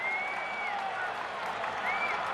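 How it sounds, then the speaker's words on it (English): Baseball stadium crowd cheering and rising to its feet during a possible four-home-run game: a loud, steady roar of many voices with a few whistles carrying over it. "Crowd rising to its feet."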